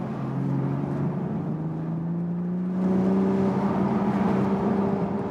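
A BMW Z4 M40i roadster driven in manual mode sends out a steady, close exhaust drone that rises in pitch and swells louder partway through as the revs climb.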